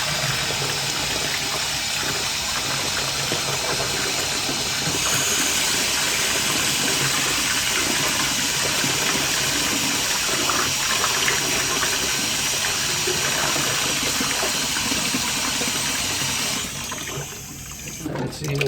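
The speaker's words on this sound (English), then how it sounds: "I'm just going to fill the Tupperware up with water" Steady rushing of water pouring into a plastic Tupperware tub holding sand, continuous and fairly loud, with a brief dip near the end.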